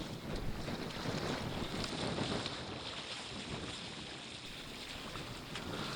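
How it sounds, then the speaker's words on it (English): Wind roars steadily across the microphone while a kayak sails on open water in a high wind on a broad reach, with waves washing faintly underneath for the whole stretch. "The wind is coming over my left shoulder"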